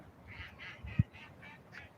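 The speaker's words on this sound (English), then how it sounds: "oh, you hear the duck?" A duck quacks on a farm, a rapid series of six or seven soft, nasal calls in an even rhythm, somewhat distant and faint over low background noise, with one brief thump partway through.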